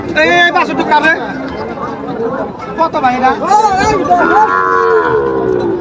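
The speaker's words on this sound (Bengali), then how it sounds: "সবই সার বাছুর।" Several Sahiwal bull calves moo loudly and repeatedly at a cattle market in Faridpur, their calls overlapping, while a crowd chatters in the background.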